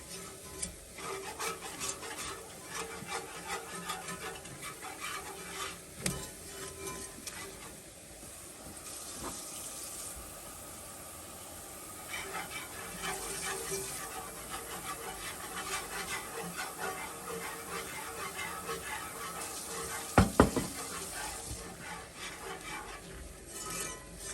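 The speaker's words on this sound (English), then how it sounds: "We're going to cook that flour so the gravy doesn't taste like flour." Flour cooking in a pan with beef drippings for gravy, a steady soft sizzle and hiss with a spoon scraping and rubbing against the pan, close and continuous.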